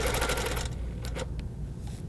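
A quilting sewing machine stitches beside a hexagon ruler about an eighth of an inch from the edge, giving a fast close rattling run that stops partway, followed by a few brief taps.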